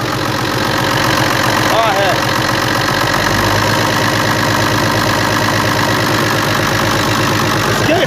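A Brazilian FNM 180 truck engine idles after sitting parked for three years, a steady low rumble filling the whole clip with a brief voice over it.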